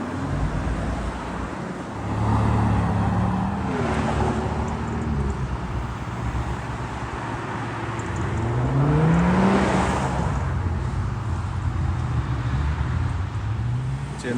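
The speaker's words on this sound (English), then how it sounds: "we're starting to get the build-up of traffic going in now" Supercars and ordinary traffic roll into a prestigious supercar event, a steady close roadway rumble with engines swelling and a couple of louder passes, one around the middle and one near the end.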